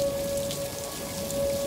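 Heavy rain pours down during a Minneapolis thunderstorm, a dense steady downpour drumming on surfaces with no voices and a faint constant tone underneath.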